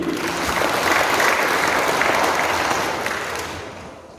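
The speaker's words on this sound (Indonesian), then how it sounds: "Tepuk tangan dulu." Loud applause from a large audience at a university rector inauguration ceremony, dense continuous clapping that fills the hall and tapers off slightly at the end.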